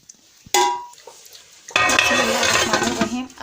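A metal lid clanks onto a cooking pot of lauki halwa, one sharp clatter followed by a louder rattling and scraping of metal as the cover settles, close and clear with no talk.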